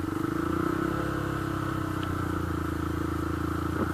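A Honda CB125F motorbike engine held at steady high revs of about 4,000 rpm, a sustained buzzing drone with a constant pitch and close, even loudness throughout.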